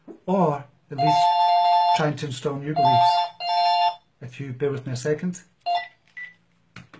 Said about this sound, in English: Sorry, that was the phone going off.